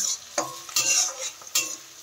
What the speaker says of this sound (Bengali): জাস্ট একবার নেড়ে মিশিয়ে নেওয়া হবে ওর সাথে বাদ বাকি সবজিগুলো